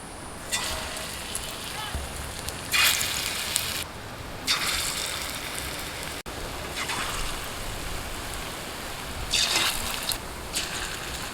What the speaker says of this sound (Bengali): তেল গরম হয়ে গেছে, আমি এবার ভেজে নিচ্ছি